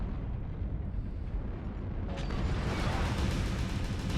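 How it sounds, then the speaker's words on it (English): Artillery strike explosions in Mechwarrior Online, a low continuous rumble that swells into a louder, brighter blast midway and keeps roaring to the end. "Wait, how did that artillery strike hit my front?"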